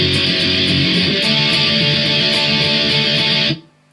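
Electric guitar strums a power-chord part, a dense, loud and steady rhythm that runs for a few seconds and then stops abruptly.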